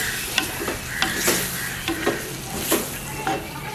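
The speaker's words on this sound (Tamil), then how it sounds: "நல்லா ஒரு கொதி வந்தோடனே பிரட்டி போட்டு இறக்க போகிறோம்." Coconut milk beetroot curry, Jaffna style, is stirred in a pan over a steady sizzle, with repeated scraping strokes and clinks of the spoon close up and no speech.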